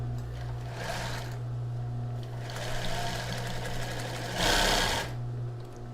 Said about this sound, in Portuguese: Então aqui eu vou costurar e dar o retrocesso.